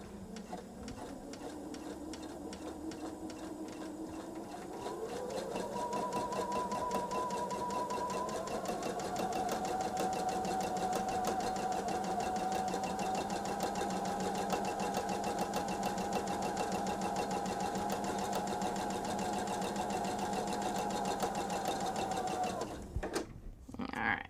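A sewing machine stitches a quilt with the needle-down setting, giving a steady mechanical whir that climbs in pitch as it speeds up after a few seconds. It holds that pace for nearly twenty seconds, then stops abruptly.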